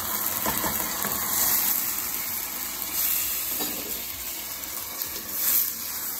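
Rice and lentils browning with onions in a pot for Moroccan lentil soup, a soft steady sizzle with occasional stirring scrapes, close and fairly quiet.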